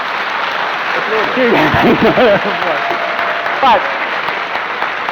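Debate audience applauding in a hall, a steady wash of clapping throughout while a voice talks over it.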